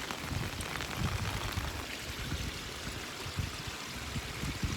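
Heavy rainwater rushing through a dug trench beside a cabin in the woods during a downpour, a steady broadband wash of flowing water and rain with no voices.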